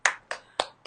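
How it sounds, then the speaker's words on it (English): Four sharp, evenly spaced hand claps, close and crisp, about a quarter second apart during a guided movement session. "Let's clap our hands."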